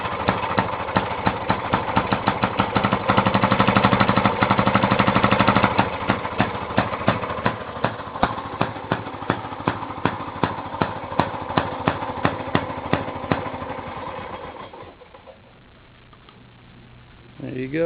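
1917 Maytag Model 43 washing machine gas engine running loud and close with a rapid, regular popping beat, then the exhaust tapers off into a quieter stretch near the end.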